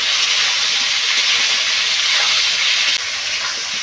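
Chicken pieces frying in a pan for a Bengali chicken and potato curry, producing a loud, steady sizzling hiss that runs unbroken and close throughout, with no voices.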